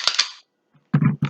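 An unloaded Glock pistol is dry fired after a safety check, giving a pair of short sharp mechanical clicks, a brief pause, then a few more crisp snaps of the slide and trigger, close and loud.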